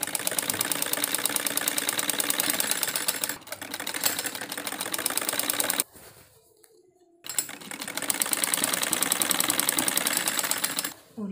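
Sewing machine stitching a salwar belt with a half-inch seam, running in loud, steady rapid bursts with a brief pause around the middle before resuming.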